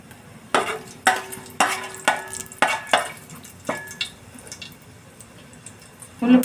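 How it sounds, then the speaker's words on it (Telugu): Onions and green chillies go into a pot of hot oil with whole spices for fish biryani, giving a series of sharp, close stirring scrapes and sizzles in a regular rhythm before it quietens. "ఉల్లిపాయ పచ్చిమిర్చి వేస్తున్నాను."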